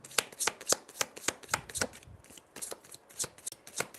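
Tarot cards are shuffled in a quick, crisp flurry of riffling and snapping, close by with no voices.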